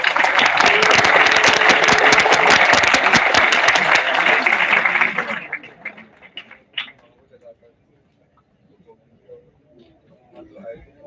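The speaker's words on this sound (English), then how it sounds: "can we have a louder round of applause for everyone?" A conference audience of students claps loudly and steadily for about five seconds, then the applause thins to a few scattered claps and a quiet room.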